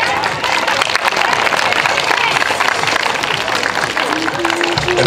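A crowd at an athletics medal ceremony for athletes with disabilities applauds in loud, sustained clapping, with voices and announcer talk mixed in.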